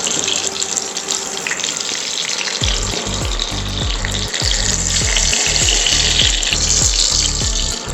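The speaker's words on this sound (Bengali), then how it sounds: "মাছটা ভাজা হয়ে গেছে, আর বেশি ভাজবো না" Chital fish frying in oil gives off a loud, continuous, close-up hiss and crackle, with low knocks repeating through the second half.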